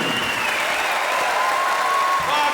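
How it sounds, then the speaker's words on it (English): Concert audience applauding at a London 2005 tribute show as a performer is introduced, a dense, sustained wash of clapping from a large crowd, steady and loud throughout. "Please give me a round of applause."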